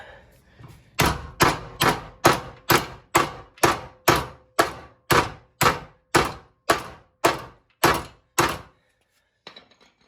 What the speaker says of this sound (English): and then hammer it out.